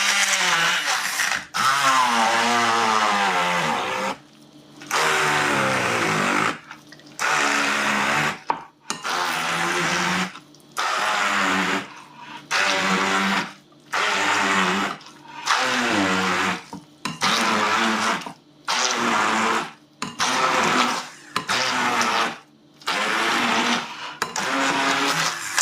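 Blender crushing chickpeas for Algerian hummus, running in loud repeated pulsed bursts separated by short pauses, close and alone.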